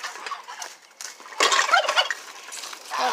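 Geese on a farm give loud, honking gobbles and clucks in short overlapping bursts, close by, with the noisiest stretch in the middle and no talk over them.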